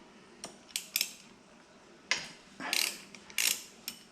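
Sharp metallic clanks and ratcheting clicks from a wrench breaking loose the sprocket bolts on a 2002 Honda XR80R dirt bike, several separate close bursts with quiet gaps between them.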